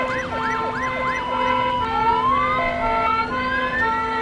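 An ambulance siren in the emergency-services video game Emergency 4 with a São Paulo mod wails in rapid rising and falling sweeps, then shifts to steadier tones among other overlapping sirens, loud and continuous.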